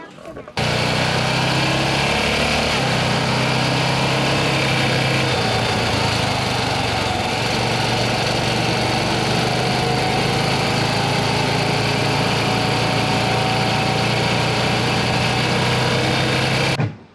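A Honda Pioneer utility vehicle engine running steadily during a test ride, a loud constant drone and hum that holds for the whole stretch with a slight shift partway through.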